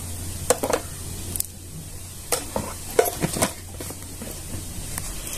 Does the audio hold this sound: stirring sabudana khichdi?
yes